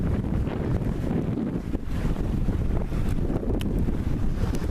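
Strong wind of around 15 knots buffeting the microphone aboard a sailboat off the beach, a loud continuous low roar with faint water and rigging noises underneath and no talk.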